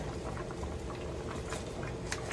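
A chopped, rinsed head of cabbage goes into a pot boiling with smoked pork neckbones; a steady, dense bubbling boil fills the clip with soft splashes and rustles, close and continuous, with no talking.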